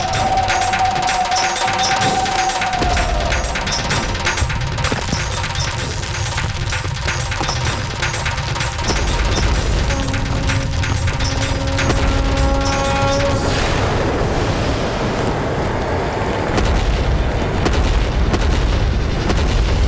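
Deep booming explosions roll over a dense, continuous roar, with a rumbling surge and crackling debris building toward the end.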